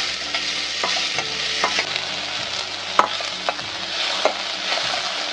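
Potatoes and curry leaves fry in a pan with onions, giving a steady close sizzle broken by occasional scraping stirs and soft knocks of a spoon.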